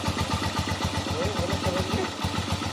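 A Haojue 125 motorcycle engine runs after an overhaul with a steady, rhythmic mid-pitched idle and loud, continuous popping throughout, while people talk over it.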